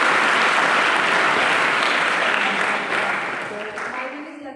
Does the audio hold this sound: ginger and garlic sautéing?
no